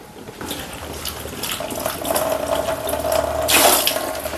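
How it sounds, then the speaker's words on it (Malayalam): Water runs and splashes while grated ginger is rinsed by hand for a Kerala-style ginger curry, a steady close wash that swells to a louder gush near the end. "ഇനി ഇതൊന്ന് കഴുകി എടുത്തുകൊണ്ട് വരാം"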